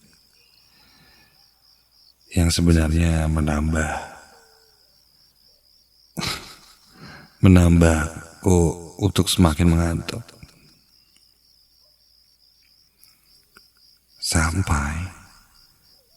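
Crickets chirp at night in a steady, faint pulsing trill that runs through the whole stretch, both alone and beneath intermittent spoken narration.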